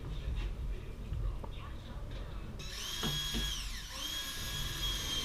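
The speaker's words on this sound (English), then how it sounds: "I am trying to push the boards up as we screw them in to make sure everything is really nicely clamped up against the rafters" A drill drives screws into ceiling boards fixed up against loft rafters, with a rising high whine that runs in two bursts, preceded by low knocks and muffled speech under a dull background hum.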